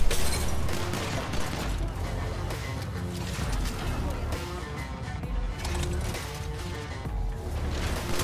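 P2020 pistol gunfire in Apex Legends, repeated sharp shots and clatter amid a dense, busy game mix, with a voice talking over much of it.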